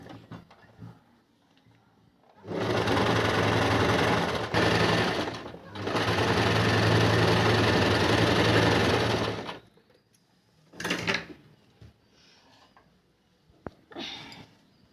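Sewing machine running two long continuous stitching bursts on a semi-Patiala salwar, loud and close, with a short pause between them and quieter handling sounds after.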